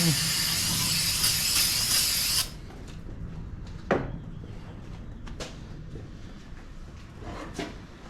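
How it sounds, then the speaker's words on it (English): Brake cleaner sprays onto second-generation Toyota Tacoma front brake parts in one loud, close hiss of about two seconds that cuts off sharply. Quieter clicks and knocks of handling parts follow. "A little bit of brake clean."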